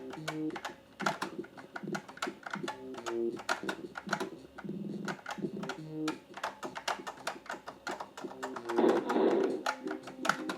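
Fast, uneven keystrokes clatter on the computer keyboard of a 25 MHz Leading Edge 486 PC while Wolf 3D is played, with steady tonal game sounds running underneath throughout.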